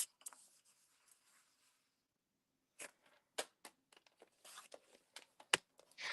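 Paper card being cut to a 1 3/4 inch strip for a double gatefold card, a few crisp snips and rustles spaced out with quiet pauses between.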